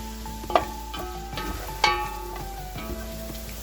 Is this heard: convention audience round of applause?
no